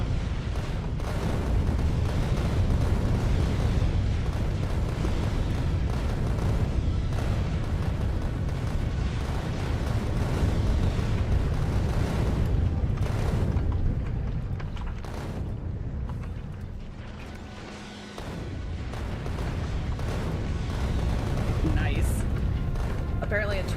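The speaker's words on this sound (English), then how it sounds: "The rockets target the big one, the gun turrets medium and small." Rockets and gun turrets fire continuously in Factorio, a dense roar of booming, explosive gunfire that holds steady for most of the stretch, dips briefly, then swells again.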